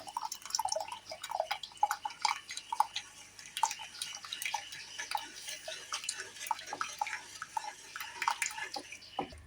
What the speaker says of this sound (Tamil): இப்போ இந்த 4 கிளாஸ் தண்ணி கொதிச்சிட்ருக்கு.